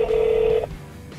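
A 2013 Lexus Bluetooth hands-free phone system with navigation emits a steady electronic dialing tone for about half a second, loud and clear inside the car, followed by faint background hum.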